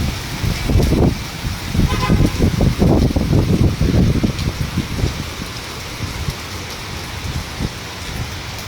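Strong typhoon wind and heavy rain roar loudly and continuously, with gusty bursts of rain pounding on surfaces nearby during the storm.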